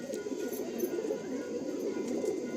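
An Andhra Kalanka pigeon coos softly, a low murmuring purr running steadily through the short stretch with no voices.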